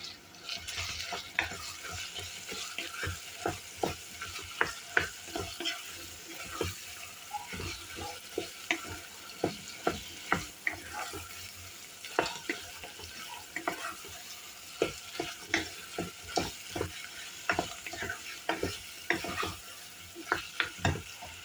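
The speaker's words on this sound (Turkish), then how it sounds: "Güzelce kavrulsun." Gentle sizzling of tomato paste and spices frying in a pan, with repeated scraping and stirring clicks, steady and close, no talking.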